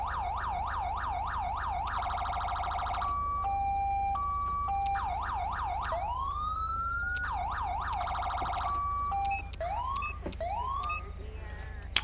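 A Code 3 Master Combi police siren modded into Grand Theft Auto 5 cycles through loud, close tones: rapid yelps, steady two-tone hi-lo, long rising wails and quick whoops, switching pattern every few seconds over a low engine drone.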